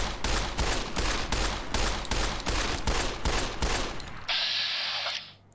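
Gunfire in Fallout: New Vegas comes as a steady string of roughly ten loud, evenly spaced shots, close and punchy, followed by a bright hissing burst near the end before everything drops away.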